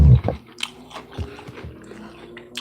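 Close, loud crunching bites of Cocoa Puffs cereal, a sharp crunch at the start followed by softer irregular chewing.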